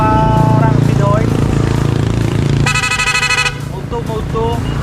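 A motorcycle horn wired in a garage in Guimba, Nueva Ecija, is tested in a speed mode, giving a rapid buzzing toot lasting about a second amid loud engine idle and other horn chirps, close and loud.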